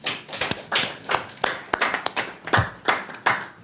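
Scattered hand clapping in a parliamentary committee chamber, about a dozen distinct claps in an uneven rhythm rather than a full ovation, close and fairly clear with no talk.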